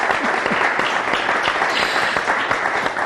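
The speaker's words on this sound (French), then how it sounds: "donc on peut acclamer pour ça" Church audience at a pastor's service bursting into loud, sustained applause with cheering, dense clapping continuing throughout.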